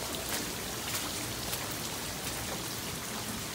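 Rain falling outdoors beside a backyard swimming pool, a steady, dense patter of drops hitting surfaces, even and continuous, with no voices.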